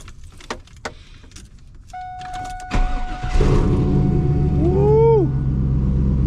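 A car starts up after some clicks and key jingles, then its engine and exhaust settle into a loud, steady rumble close by, with a brief whine partway through.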